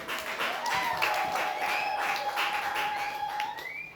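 A church congregation at a Sunday service claps in scattered, moderately loud bursts, with a sustained tone and a faint voice running underneath.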